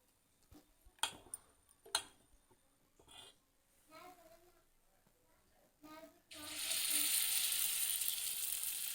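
Paddu batter made with jowar flour hits a hot paddu pan and breaks into a loud, steady sizzle that holds to the end, after scattered clicks, taps and brief soft voices earlier.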